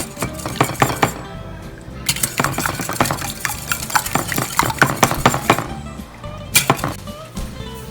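A spoon stirs and scrapes a bread pudding mixture of soaked bread and condensed milk in a bowl, giving repeated close clinks and knocks in uneven bursts with short pauses.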